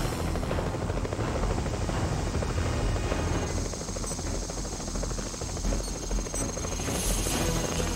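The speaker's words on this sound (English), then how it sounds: "A helicopter and several guard units have been scrambled to the crash location." Helicopter rotor drone in the video game X2: Wolverine's Revenge, a steady loud whir filling the whole stretch with constant broadband noise and no talk.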